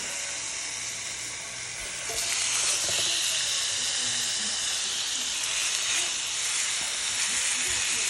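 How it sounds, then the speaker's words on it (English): Meat sizzles loudly in a hot pan, the hiss swelling suddenly partway through as more hits the pan and then crackling steadily on. "So we're gonna start frying up some of this beautiful meat."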